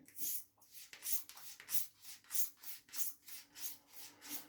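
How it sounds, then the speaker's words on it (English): A stainless straight razor is stropped lightly and quickly on smooth leather, producing about eight soft, evenly spaced rubbing strokes in a steady rhythm, faint and close, with nothing else heard. "very, very quickly, very lightly strop this number 68, which is the 5/8 stainless"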